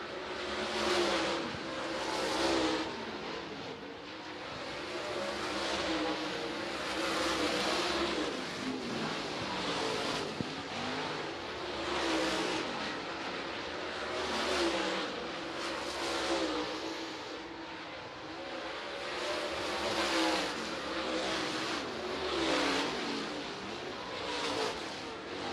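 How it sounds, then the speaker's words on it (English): Super late model race cars run hot laps around a 3/8 mile high-banked speedway, engines rising and falling in repeated passes, distant and steady, with no talk. "Let's get some hot laps for the super late models here."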